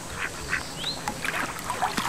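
Ducks quack in a short series of soft, mid-distance calls over a faint outdoor ambience in the horse-riding game Rival Stars Horse Racing.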